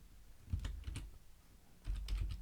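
Two quick bursts of typing on a computer keyboard, close and fairly quiet, with a short pause between them.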